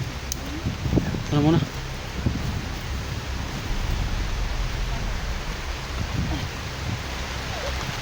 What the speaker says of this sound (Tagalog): Ulan na tol.